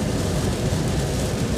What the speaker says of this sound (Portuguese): Vocês podem analisar que a chuva ficou muito forte mesmo.